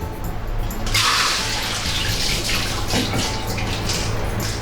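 Water rushes and splashes steadily as chilled noodles drain in a strainer after an ice-water bath. The sound is close and continuous for a few seconds.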